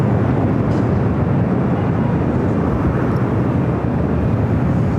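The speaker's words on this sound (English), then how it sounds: "Air New Zealand flight 6 coming from Auckland, a 787-9 Dreamliner landing on the south side." Air New Zealand Boeing 787-9 Dreamliner arriving from Auckland and landing on the south side at LAX: a loud, steady jet roar with heavy low rumble that holds unbroken for the whole stretch, with no voices.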